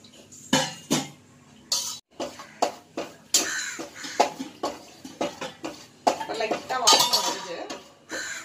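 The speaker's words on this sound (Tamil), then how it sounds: "இந்த கோதுமை மாவை அப்படியே வறுக்கணும்." Wheat flour is roasted in a kadai over a low flame, and a spatula stirs and scrapes against the metal pan. The result is a series of close, irregular clinks and scrapes separated by short pauses.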